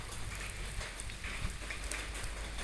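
Steady rain pours down outdoors, a continuous even hiss of drops on surfaces with no voices, holding at a constant close, moderate level throughout.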